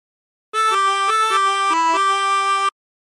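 A 24-hole tremolo harmonica plays a phrase of the Battle Hymn of the Republic. About two seconds of steady, reedy blown notes change pitch several times, then stop cleanly.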